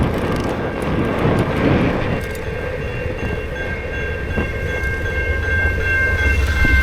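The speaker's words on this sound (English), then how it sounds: "Oh man, CJ, all you had to do was keep up with the train." A passing train rumbles loudly and steadily for several seconds, its broad roar filling the scene with a faint sustained horn-like tone running through it and no voices.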